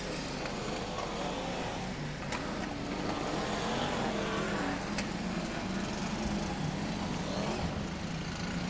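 A BriSCA Formula 1 stock car roars down the home straight, its engine a loud continuous drone that holds steady and then swells as it passes close by.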